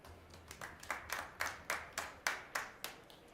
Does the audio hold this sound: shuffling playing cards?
no